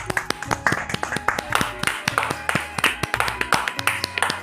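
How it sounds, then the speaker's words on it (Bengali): Children clap their hands at an evening competition, producing close, sharp, rapid claps in an uneven flurry that runs throughout, with faint talk underneath. "সবাই একটা জোরে হাততালি দিয়ে দাও"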